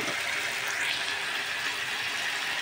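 Water is poured from close by into a pan of masala gravy in a home kitchen, a steady rushing splash that runs unbroken through the short moment.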